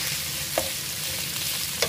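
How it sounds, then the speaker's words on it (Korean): Squid is stir-fried over high heat in a pan, a short burst of hissing sizzle with two quick spatula clacks against the pan. "오징어까지는 센 불에 볶아주는 겁니다"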